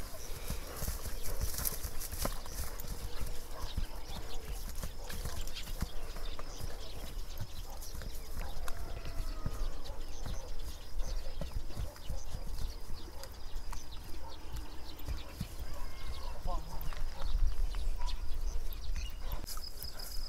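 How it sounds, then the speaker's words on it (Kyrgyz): Hooves of a horse being led out at a Kyrgyz horse show clip-clop steadily on hard ground, close and fairly loud, with crowd murmur and faint speech in the background. "сиздерге көрсөтүүчү экинчи атыбыз дагы даяр болуп чыгып келди"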